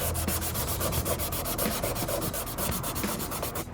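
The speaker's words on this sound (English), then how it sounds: "So I'm scuffing it here, and you're also gonna scuff this material here, this recycled, whatever it is." Leather on a BMW E36 door panel and a recycled backing material being scuffed by hand for gluing, a close, continuous rhythmic rasping rub with quick repeated strokes.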